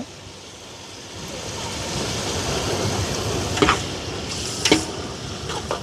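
Wind blowing outdoors near a cooking fire, a steady broad rushing roar that swells over the first seconds and stays loud, with a few brief gusts or buffets standing out.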